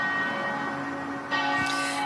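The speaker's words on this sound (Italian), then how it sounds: "accompagnati dalle campane che scoccano il mezzogiorno" Church bells ringing at noon, a sustained resonant tone with a fresh strike partway through, heard outdoors behind a live news report.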